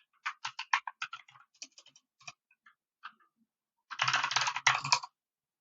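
Keystrokes click on a computer keyboard in two short bursts, first a quick irregular run of taps, then a pause with a few isolated clicks, then a denser flurry of typing, close and fairly quiet.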